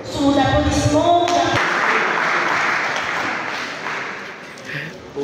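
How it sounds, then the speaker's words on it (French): Audience applause at an evening celebration honouring a family elder, broad sustained clapping that rises over music and voices at the start, then carries on steadily and slowly fades over about five seconds. "Sous vos applaudissements"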